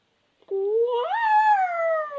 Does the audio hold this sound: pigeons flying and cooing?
no